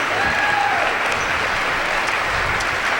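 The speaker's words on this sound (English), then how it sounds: "as he gets a standing ovation by the Colfax adults and students alike" A stadium crowd of adults and students gives a standing ovation at a high school basketball game, dense continuous clapping from many hands throughout, fairly loud and even.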